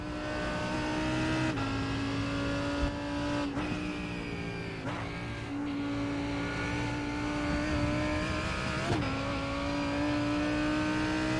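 A Lamborghini GT race car in a sim racing game at Road Atlanta drones with a steady, high, strained engine note. It dips briefly at regular lifts or gear changes, then climbs again, loud and continuous with no talking.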